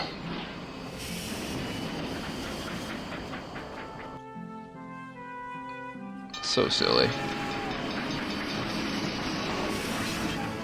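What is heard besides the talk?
jet-propelled train in video game King's Bounty: The Legend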